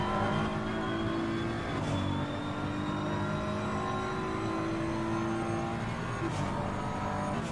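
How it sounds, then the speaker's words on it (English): Onboard engine of a BMW race car at Paul Ricard in the Assetto Corsa Competizione racing game, a steady loud drone rising in pitch through the gears with brief shift dips, heard alone without talk. "Let's go on board with Niels for a lap. See what he can do. See this BMW in full force."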